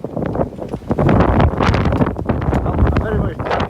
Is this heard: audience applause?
no